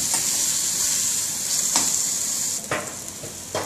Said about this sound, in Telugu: ఆయిల్ వదిలేదాకా వేపుతూ ఉండాలండి.